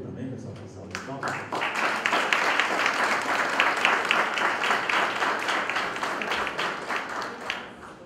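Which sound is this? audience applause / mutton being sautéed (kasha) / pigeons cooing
audience applause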